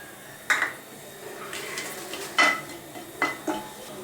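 Whole spices, cinnamon, cloves and cardamom, stirred in hot oil in a pan for spicy chilli chicken: soft sizzling under several sharp scrapes and clinks of a spoon against the pan.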